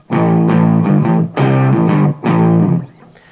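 Electric guitar played through a pedal chain with an Angry Charlie distortion pedal switched on, three loud sustained distorted chords or riffs separated by brief gaps, thick and saturated, no talking.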